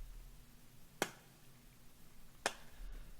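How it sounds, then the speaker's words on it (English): Two crisp, snappy clap hits from a chill hip hop beat, sounding alone about a second and a half apart over a faint low room hum. "Boost some of the body of the clap right there."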